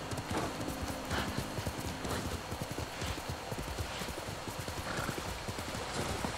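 Horse hooves galloping in the Ghost of Tsushima video game, a fast, steady clip-clop rhythm running throughout at close range, with a brief whinny.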